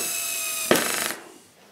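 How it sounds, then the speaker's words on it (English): A screw driven into wood for a homemade monitor or TV lift, one short burst of powered driving lasting under half a second, close and fairly loud, then fading into quiet room tone. "I'm now going to put the screws in."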